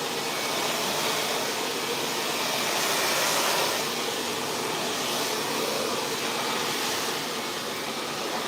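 A hair dryer blows steadily, close and loud, a broad rushing airflow that shifts slightly in tone as it moves around the hair, with no speech over it.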